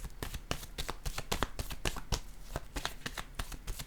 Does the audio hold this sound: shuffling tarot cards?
yes